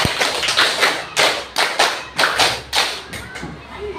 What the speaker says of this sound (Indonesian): Tepuk 5 2 kali.